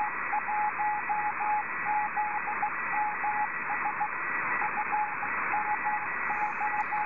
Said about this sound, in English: This is not a strong signal from the ZMS beacon.